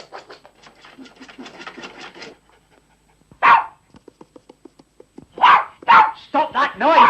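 A dog in a snowy Scottish night scene pants rapidly in quick, shallow breaths, then barks loudly several times up close, with a stretch of rhythmic panting between the barks and someone speaking near the start.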